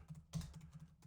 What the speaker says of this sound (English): So I'm going to be typing here